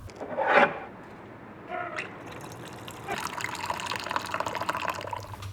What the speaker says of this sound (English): I'm gonna pour one last cup of tea here in room 309.